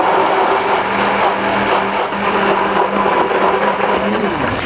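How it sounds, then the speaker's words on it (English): An immersion blender whirs steadily while emulsifying homemade mayonnaise, a loud, continuous motor hum with a gritty churning texture and no pauses. "the immersion blender grabs a little bit at a time and sucks it under"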